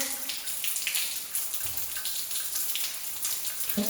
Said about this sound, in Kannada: ನೀರು ಬೀಳ್ತಿದೆ ಅಲ್ಲಿಂದ